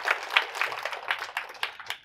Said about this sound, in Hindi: तो एक बार ताली बजाओ इसके लिए।